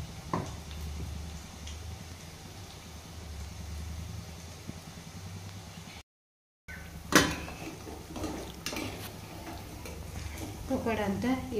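Onion pakoda frying in hot oil gives a steady soft sizzle with occasional stirring and clinks of a utensil against the pan, heard close, with a brief break midway and a voice speaking at times.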